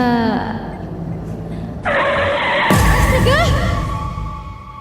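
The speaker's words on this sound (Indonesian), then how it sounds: "refleks aku mengerem mendadak karena orang-orang yang berkumpul tadi menghalangi jalanku" In the Nightmare Side video game, a car brakes suddenly and skids, giving a sharp screech and bang followed by loud, sustained tyre squeal and engine noise, with a voice over the top.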